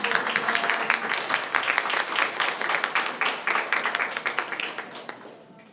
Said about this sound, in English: Let's have another round of applause for kinder first and second.